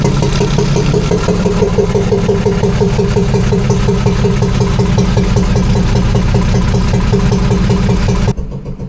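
A newly installed boat engine runs at a steady idle aboard a moored boat, loud and close with an even rhythmic chugging throughout, then cuts off abruptly near the end.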